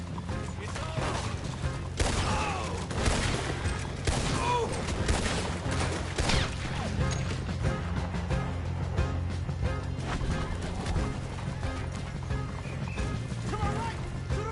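Video game gunfire, bursts of rapid shots and crashing impacts through a firefight, with voices talking over the action.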